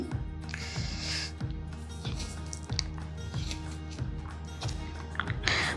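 Pierogi dough kneaded by hand in a home kitchen, with soft repeated squishing and tapping thuds in a loose rhythm, close and moderately loud, without speech.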